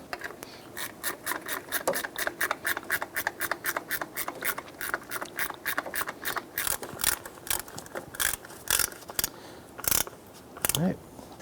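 A hand ratchet snugs down bolts while replacing the power steering pump on a 2005–2009 Subaru Outback, giving rapid, repeated clicking bursts close by, with short pauses and a brief voice near the end.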